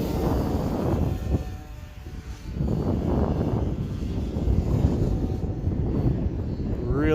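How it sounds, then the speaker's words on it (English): A Hawk King RC airplane makes a high-speed pass, its motor a broad, rushing drone buffeted by heavy wind noise on the microphone, with a rising whine near the end. "Let's get a high-speed pass in."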